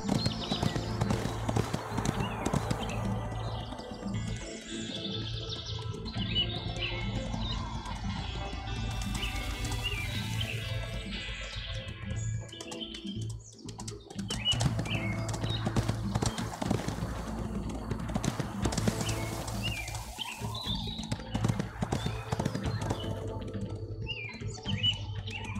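Steady clip-clop of horse hooves as a horse is ridden in the video game Ostwind, a continuous rhythmic trot running under game music and chirping birds, with a brief whinny.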